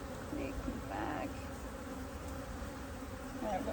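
Honey bees buzz around an open top bar beehive, a steady close hum with a few louder passes from individual bees, and no talk.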